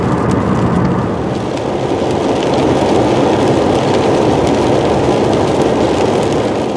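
Steady rain falling on a rainy, chilly day, a dense even patter that stays loud and close throughout with no voices.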